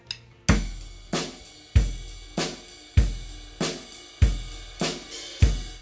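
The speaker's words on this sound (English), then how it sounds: "that eighth note rock groove, which sounds like this." A steady rock drum beat with kick and snare hits alternating under continuous hi-hat eighth notes, played solo at a moderate tempo.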